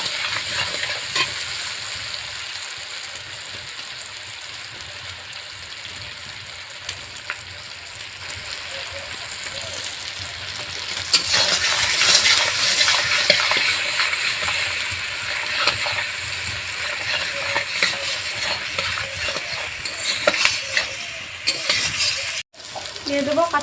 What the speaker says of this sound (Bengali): খুব ভালো করে পেঁয়াজটা আমি ভেজে নেব।